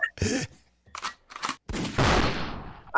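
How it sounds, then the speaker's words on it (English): A gunshot sound effect played during a talk show: a sharp blast followed by a long decaying rumble, preceded by brief speech bursts. "she wants a gunshot for that"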